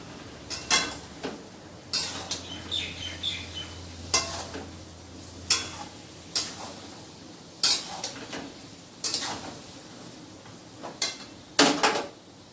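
Onion and tomato paste cooks in a pan with a soft sizzle under repeated scraping strokes of a spoon, steady stirring in a rhythmic series of clinks and scrapes.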